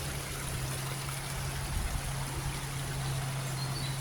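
Water from a homestead waterfall pours and trickles steadily, a continuous close wash of flow with a low steady hum beneath it and no voices.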